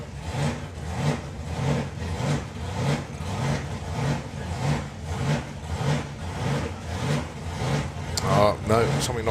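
A hot rod drag car's engine hunts for fuel at a drag strip, surging and dipping in a steady pulsing rhythm about every half second, loud and close, with a voice talking over it.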